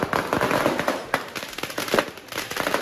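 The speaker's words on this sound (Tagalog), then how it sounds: "kanya-kanyang pasiklaban ng mga biniling paputok ang mga residente" Firecrackers and fireworks exploding at midnight in a residential part of Cebu City, a dense rapid crackle of many sharp bangs overlapping continuously, loud and close with distant pops behind.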